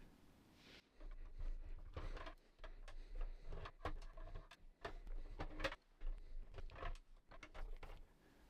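Small screws are backed out of the rear case of a radio cassette boombox, a close series of sharp ticks, clicks and metallic rattles in an irregular rhythm over a low steady hum, with no talking.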